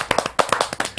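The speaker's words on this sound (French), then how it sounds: "nous, on applaudit." A handful of people clap during a French tabletop role-playing game session, about a dozen sharp close hand claps in a quick uneven rhythm over roughly a second.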